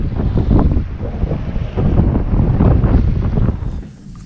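Strong wind roars and buffets the microphone in heavy, surging gusts, with a low rumble throughout that eases near the end.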